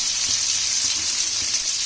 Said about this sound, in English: Let's fry it till the onion turns into golden brown.